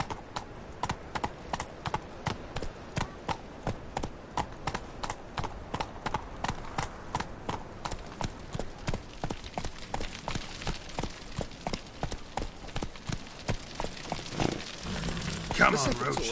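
A horse gallops in The Witcher 3 video game, a fast, steady clip-clop of hooves that continues throughout with a brief rise near the end, while a character's voice speaks over it.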